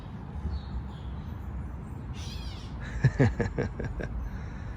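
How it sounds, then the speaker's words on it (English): A bird calls a few short raspy notes in the distance over a steady outdoor background hum. "If you can hear in the background, there's a bird."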